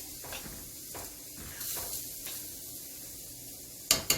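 Black bean mixture stirred in a pan, with quiet, irregular scraping strokes over a faint sizzle, ending in two sharper clinks.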